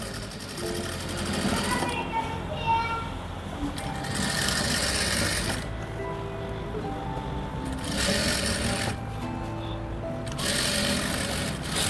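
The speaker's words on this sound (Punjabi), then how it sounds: "ਕਿਨਾਰੇ ਤੇ ਰੱਖ ਕੇ ਤੁਸੀਂ ਉਰੇ ਸਲਾਈ ਲਾਉਣੀ ਸਟਾਰਟ ਕਰ ਦੇਣੀ" A sewing machine stitches buckram onto the cuff of a chikan-work salwar in several runs of steady whirring, close up, with someone talking between and over the runs.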